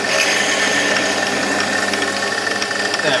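A drill bores through a home-made metal casting for a pulley for a Sherline 5000 mill, giving a steady, close grinding whine with scratchy cutting noise throughout.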